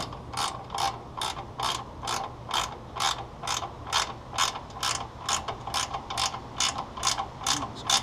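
A ratchet tightening the grill onto a Willys CJ2a jeep: steady, evenly spaced clicking strokes, about sixteen in a regular rhythm, close and clear with no talking.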